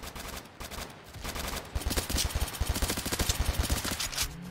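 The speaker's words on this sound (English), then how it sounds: "And when you shoot at this gun, it's very smooth." Rapid bursts of assault rifle fire in the Roblox game, a zombie shooter, sharp repeated shots building into dense automatic volleys that sound loud and close, with no talk over them.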